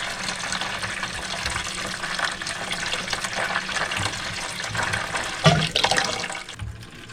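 Cold water runs steadily from a tap in a skoolie bus water system, a constant close rush of flow with a few small clunks near the end.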